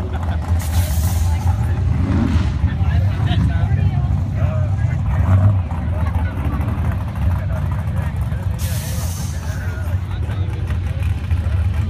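A drag racing car engine at a drag strip roars loudly and continuously, rising and falling in a rough, heavy drone over about twelve seconds, with bursts of hiss and background noise mixed in.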